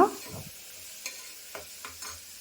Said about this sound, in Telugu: ఆనియన్స్ బాగా ఫ్రై చేసుకున్న తర్వాత